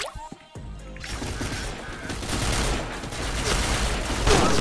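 Game gunfire in a shooting game rattles in a dense, continuous fusillade after a few sparse opening shots, loud and steady with faint background noise underneath.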